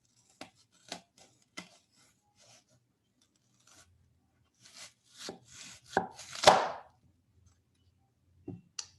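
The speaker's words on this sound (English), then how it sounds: "你切掉1/3这个洋葱。" A knife chops through an onion on a cutting board, sending a series of crisp, irregular cuts close by, with a quick louder cluster of slices near the end and no talking.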